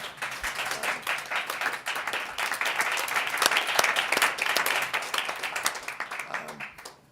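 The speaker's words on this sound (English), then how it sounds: "how about a round of applause and appreciation?" Steady applause from a crowd, many hands clapping loudly for several seconds before tapering off at the end.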